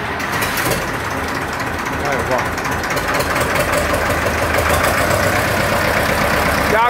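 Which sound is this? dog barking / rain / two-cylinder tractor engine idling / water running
two-cylinder tractor engine idling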